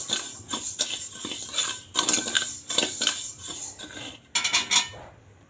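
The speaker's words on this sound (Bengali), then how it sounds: "এখন আমি এখানে বসিয়েছি বাদামটা একটু ভেজে নিই" Peanuts dry-roasted without oil in a pan, stirred steadily, give a busy run of light rattling, scraping and clinking with brief pauses and a louder flurry near the end, close and alone without talk.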